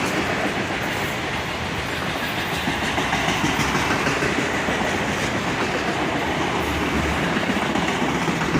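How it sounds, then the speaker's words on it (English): A long loaded CSX freight train rumbles steadily past nearby, heavy and continuous, with a faint rhythmic clatter of wheels on rails throughout. "This train's actually carrying cargo"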